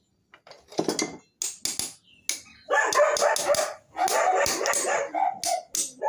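Bearings hammered into a bearing housing, a run of sharp metallic strikes in irregular bursts, some single and some rapid clusters, close and loud with ringing tones between.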